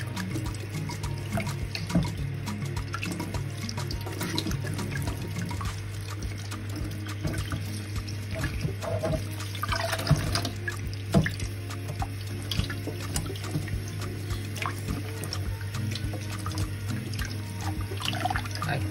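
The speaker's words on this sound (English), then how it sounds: "So we're going to be washing our broccoli." Broccoli rinsed under a running kitchen tap, a steady close stream of water with irregular splashes and drips as the florets are handled.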